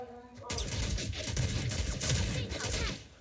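Rapid video game gunfire erupts in dense bursts of automatic shots, loud and close, following a brief quieter lead-in.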